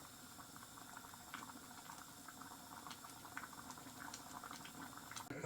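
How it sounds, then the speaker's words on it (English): Pasta sauce boils vigorously in a pot, a dense, continuous bubbling and popping at close range with scattered brighter blips, steady throughout and free of talk. "it boil quite vigorously for a little while"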